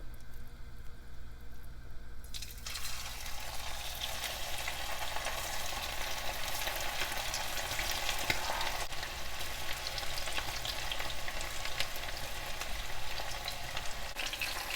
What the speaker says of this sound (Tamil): இப்போ சிக்கனை போட்டு பொரித்து எடுத்துக்கலாம்.